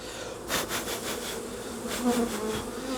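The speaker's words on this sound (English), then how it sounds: "That is all the bees flying from this box" Dense swarm of honeybees buzzing loudly and continuously around an opened hive box during a hive split, close up with a few wingbeat swells.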